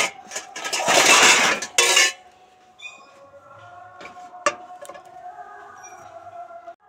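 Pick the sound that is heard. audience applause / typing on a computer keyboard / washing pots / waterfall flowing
washing pots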